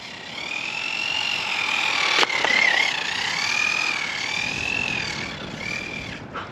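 A Team Losi NASCAR 1/12 scale AWD electric RC car runs around a parking lot, giving a steady high motor whine that rises and falls in pitch with speed, plus one sharp click partway through.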